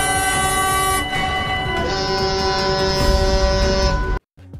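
A train passes close by at a railway crossing, its loud rumble carrying steady horn-like tones that shift partway through before the sound cuts off abruptly.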